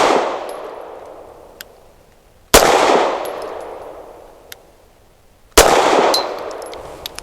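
Grand Power Mk23 pistol firing 115 grain ammunition: three sharp, loud gunshots spaced roughly three seconds apart, each with a long decaying echo, and a faint tinny clink of ejected brass between shots.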